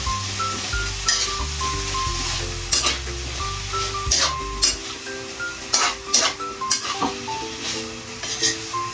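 String beans with corned beef being stirred in a pan in a home kitchen: a steady sizzle under repeated scrapes and clinks of a utensil against the pan, busier toward the end, with a low hum early on.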